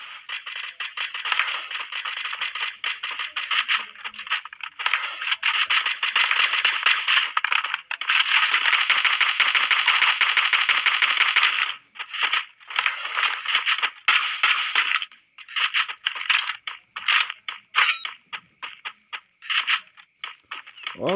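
Gunfire in a battle royale video game firefight, a dense, crackling stream of shots and impacts that swells into a sustained burst before breaking into scattered, uneven volleys.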